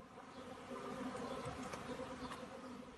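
A swarm of thousands of bees settled on an apartment balcony window buzzes steadily, a dense, droning hum that stays fairly quiet and constant throughout.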